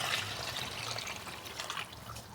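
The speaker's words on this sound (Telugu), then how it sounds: "ఇదిగో వాటర్ అయితే యాడ్ చేస్తున్నానండి నేను" Water pours steadily into a pot of marinated chicken for biryani, a close, continuous splashing trickle with no talk.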